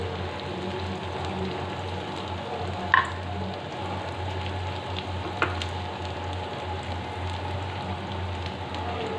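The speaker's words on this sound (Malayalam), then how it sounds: "കാരണം ഈ മീൻ ഈ വെളുത്തുള്ളിയിലും എല്ലാത്തിലും കിടന്നിങ്ങനെ മൂക്കണം" Tuna pieces frying slowly on low heat with garlic for a fish pickle, a steady soft sizzle and crackle throughout with a couple of sharper pops, close and alone without talk.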